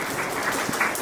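Audience applause for students at a school felicitation ceremony, a steady wash of hand claps filling the whole second at an even level with no voices.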